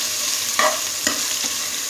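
Garlic and ginger fry in a hot pan, a constant hissing sizzle broken by three scraping stirs of a spoon against the metal, close and fairly loud; no talking.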